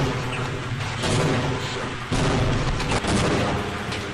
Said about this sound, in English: They become really grenade happy, so I just wait and let them do damage to themselves